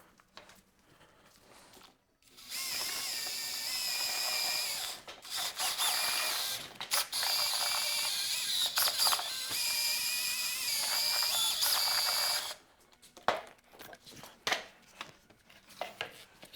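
Coating being mixed with supersonic liquid in a container on the floor, a harsh rattling whir of a mixer running steadily for about ten seconds, then stopping, followed by scattered clicks and knocks.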